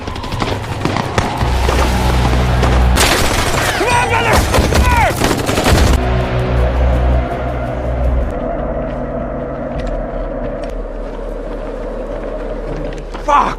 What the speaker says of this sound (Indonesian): Pertarungan tembak-menembak pun terjadi.